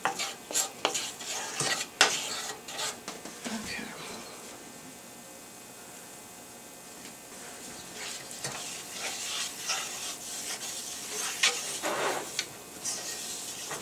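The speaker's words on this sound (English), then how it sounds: "I just want to cook that flour a little bit so it's not going to be too flour tasting." Flour roux being stirred in ghee in a pan, with a steady soft sizzle and intermittent scraping strokes, louder bursts at the start and near the end, a quieter stretch in the middle, and no talking.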